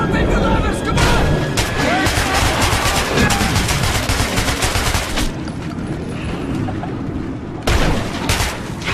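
Gunfire in the video game Metro, rapid bursts of automatic shots and booms crackling densely for several seconds, briefly easing, then resuming loud and close amid shouting voices.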